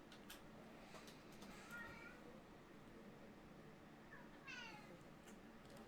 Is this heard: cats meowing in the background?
yes